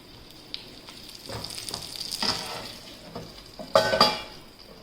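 Stuffed banana peppers sizzle steadily in a covered pan, a close, even frying hiss with a few louder clatters and stirring bursts from the lid or utensil toward the end.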